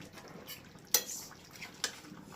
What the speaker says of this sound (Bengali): এবার ঢাকাটা খুলে দেখি।